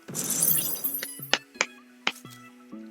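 A Roblox Destruction Simulator building breaks apart: a loud crumbling burst at the start, then a series of sharp, glassy cracking and clinking hits mixed with short game tones.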